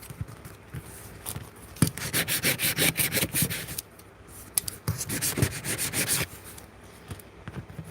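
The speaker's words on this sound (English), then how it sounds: "I'm just rubbing these down so that they're easier to peel up" Craft stickers rubbed down firmly to burnish them, giving rapid, rhythmic scraping strokes in two sustained bursts separated by brief pauses, close and fairly loud.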